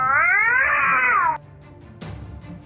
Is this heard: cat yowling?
yes